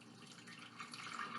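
Liquid from boiled chili peppers is poured through a strainer, a soft, steady trickling and splashing that grows slightly louder toward the end, faint and with no talking.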